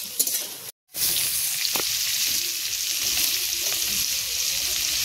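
Onions with garam masala frying in a pan, a loud, close, continuous sizzle, briefly cut off near the start, then resuming steady with a few soft stirring knocks.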